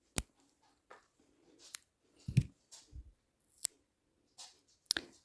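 Scissors trimming paper for a sentiment embellishment: a series of crisp, close snips and small paper rustles at irregular intervals in a quiet room.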